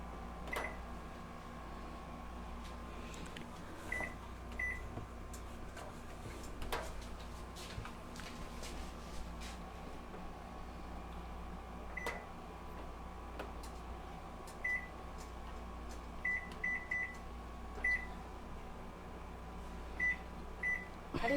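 A microwave oven hums steadily in a kitchen, with a few short, bright electronic beeps from its keypad as the timer is set and started, plus occasional clicks and light handling noises close by.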